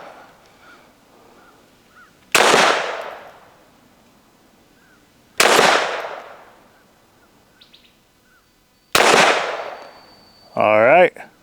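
Three loud, sharp gunshots fired at steel targets about fifteen feet away, evenly spaced roughly three seconds apart, each ringing out briefly in open air, followed by a short voice.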